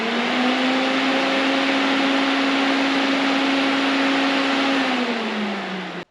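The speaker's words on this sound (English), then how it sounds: "Even though these fans are brand new, I'm going to make sure they work before I start cutting them" Brand new electric cooling fans, meant for the Cummins 6BT in a 1953 Kenworth Pacific bus, run with a steady loud whir and rushing air for about six seconds, then wind down as they cut off.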